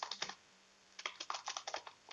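Close-up typing on a computer keyboard, with short bursts of quick keystrokes separated by brief pauses, alone in a quiet room.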